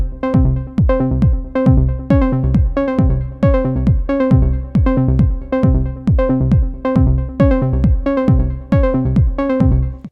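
Hypnotic synthesizer sequence of steady, evenly spaced plucked notes with bright harmonics, the pattern shifting back and forth between two versions where a minor second interval is brought in, played alone without talk.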